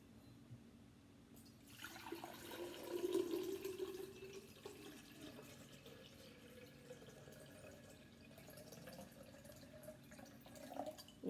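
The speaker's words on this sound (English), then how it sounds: "I'm going to go ahead and pour my water in here." Water poured into a flower vase while a spring floral arrangement is prepared, a soft, steady trickle and fill that gurgles and rises slightly in pitch, heard close with no talking.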